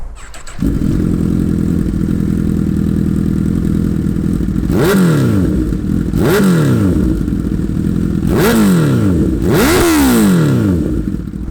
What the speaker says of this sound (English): for the Akropovich full system, which is ridiculously loud, but it sounds awesome